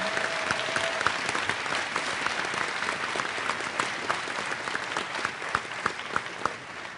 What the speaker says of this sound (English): Give them a round of applause if you don't mind.